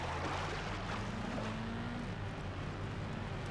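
Engines of 4x4 trucks racing in TNN Motorsports Hardcore TR give a constant, dense mechanical roar with a low drone, loud and unbroken throughout.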